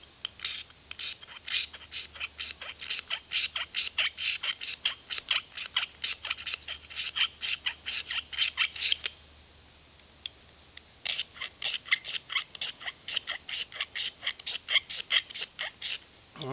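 A magnesium fire-starter bar is scraped in quick rhythmic strokes, shavings rasping into a big paper bag; a steady series of sharp scrapes pauses briefly, then resumes.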